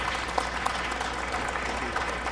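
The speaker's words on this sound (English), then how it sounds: "We have a round of applause for our panelists." Audience applause for the panelists at the close of a faith evening event, steady and fairly diffuse with scattered individual claps throughout, moderately loud and carrying on without voices on top.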